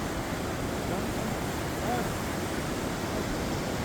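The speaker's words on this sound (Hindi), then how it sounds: "ये नदी चल रही है कितनी प्यारी।" A river in the Harsil valley rushes past in a steady, broadband roar, close and continuous, with a faint voice briefly audible underneath.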